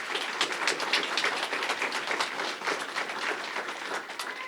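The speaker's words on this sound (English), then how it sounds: "One more time, if you'll give a round of applause for all the award recipients" An audience applauds award recipients at the Pasadena Police awards ceremony: a dense, steady round of many hands clapping that carries on at even strength, with no voices over it.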